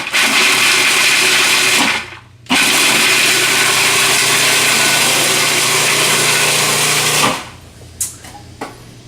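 A food processor chops garlic and walnuts in loud bursts: a long whirring run, a brief stop, another long run, then the motor winds down, followed by a few short clicks and knocks.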